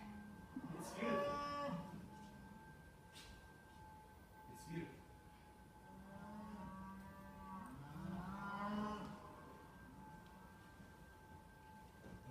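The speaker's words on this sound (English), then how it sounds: "Look at all the cows!" Cattle low and moo repeatedly in a loud herd, long drawn-out calls overlapping near and farther off, with a person speaking briefly between them.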